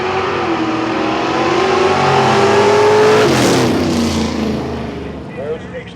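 An Oldsmobile 442 with an automatic transmission roars down a dragstrip, its engine note climbing loudly through the run and peaking as it passes close by before fading into the distance.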